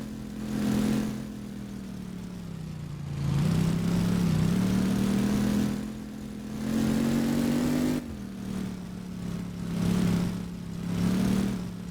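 A car with a loud exhaust revs repeatedly, the engine note rising and falling in several swells over a droning idle, close and steady with no talk.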